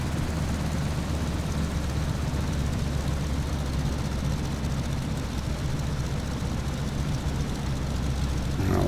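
Focke-Wulf FW 190-A4 propeller engine in Microsoft Flight Simulator at about ten percent throttle, a steady, unbroken droning rumble that holds level throughout with no talking.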